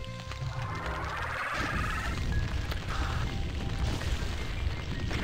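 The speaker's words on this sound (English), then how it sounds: "Yeah, the butter launcher is very effective." Butter launcher weapon firing in a Doom mod video game, a burst of booming, crashing impacts followed by a dense, noisy rumble with scattered pops and tones, no clear speech.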